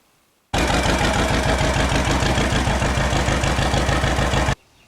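A classic John Deere tractor engine idles steadily on a farm in springtime, a loud, even chugging with a regular low pulse that starts abruptly, holds for about four seconds, then cuts off.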